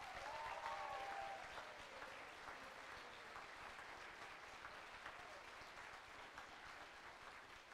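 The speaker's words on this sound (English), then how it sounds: "a very heartfelt round of applause for the Anamosa Music Boosters" A concert crowd gives a sustained, even round of applause that stays steady from start to end, with no one talking over it.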